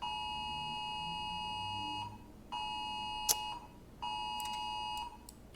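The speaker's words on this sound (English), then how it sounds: "Are we getting curfew alarms?" An electronic curfew alarm beeps in steady tones near 1 kHz, sounding in repeated bursts of about two seconds with short gaps between them, accompanied by a few sharp clicks and no voices.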